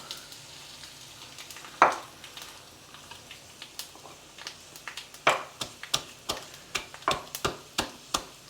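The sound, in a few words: garlic and spices frying in a tempering for rasam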